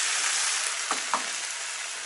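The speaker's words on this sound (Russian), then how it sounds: "И мясо обжарилось, и вот, лук и огурцы обжарились" Pork, onion and marinated pickles fry in a pan with a steady, bright hiss, broken by a couple of soft stirring clicks; no one speaks.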